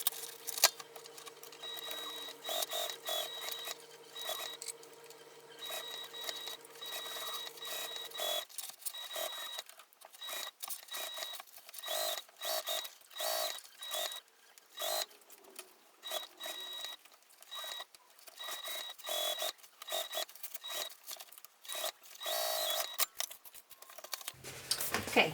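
A home sewing machine runs in short, repeated bursts while stitching a basting seam an eighth of an inch from the edge around a mini tote bag, with a faint steady tone early on and small clicks between runs.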